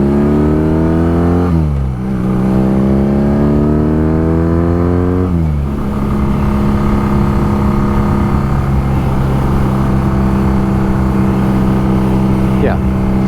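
A 2022 BMW R NineT Pure motorcycle engine drones loudly while riding, rising in pitch as it accelerates and dropping at gear changes, steady and close with wind noise.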